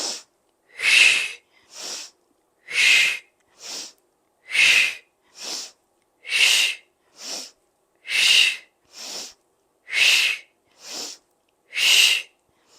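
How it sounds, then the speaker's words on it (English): Heavy, forceful breathing during a core workout with a dumbbell tied to the toe, pulling down while the knee lifts: about six close, steady pairs of long hissing exhales and shorter sharp inhales in an even rhythm, with no talking. "Exhale, inhale."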